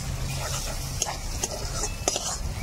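Tomato and spice paste frying in a pan for a rohu fish curry gives a low, continuous sizzle, with a few sharp clicks of a spoon stirring against the pan.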